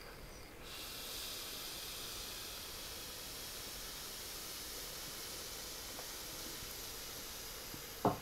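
A steady, soft sizzling hiss runs throughout, like a vape coil heating during a long inhale, ending with a brief sharp click.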